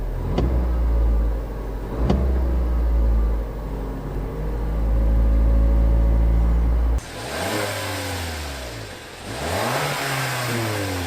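The turbocharged petrol engine of a 2019 Toyota C-HR hums smoothly and steadily through a drive, rising and falling in pitch with gear changes; the tone is mild and refined rather than harsh.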